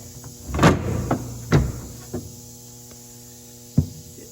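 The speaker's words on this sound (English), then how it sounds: "if we slide the door back" The door of a 1954 Kaiser Darrin slides back along its rail, giving several sharp clunks and knocks over a steady low hum, close by.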